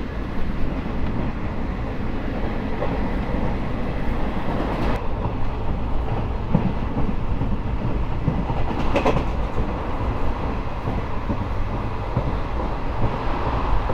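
The Paharia Express, an ICF-coach train, running through a station, heard from inside as a loud, steady rumble with rhythmic wheel clatter over the rails and a brief louder rush midway.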